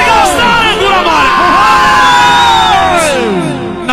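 A large wedding crowd shouts and cheers loudly in unison, a dense, sustained roar of many overlapping voices close by.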